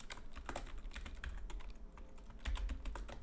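Rapid, steady typing of code on a computer keyboard, a dense run of close key clicks with no pauses, heard alone without any voice.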